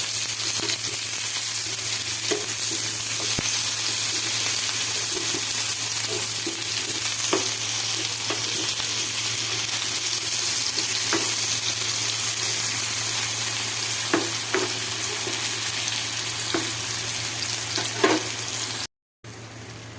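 Pieces of food fry in a pan with a steady, loud sizzle throughout, broken by occasional soft scrapes and taps as they are turned over, close up with no speech.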